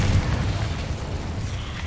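Incendio fire spell cast in the video game Hogwarts Legacy, a deep whooshing boom that hits at once and then rolls on as a dull, rumbling roar for about two seconds.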